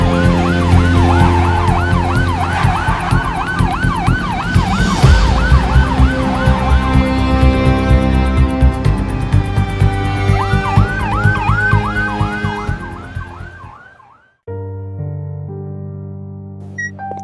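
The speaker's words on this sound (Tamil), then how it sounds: "அதோ ஆம்புலன்ஸ்." An ambulance siren wails loudly in repeated rising-falling sweeps, fading toward the middle and returning strongly before cutting off abruptly, with a sustained musical score underneath.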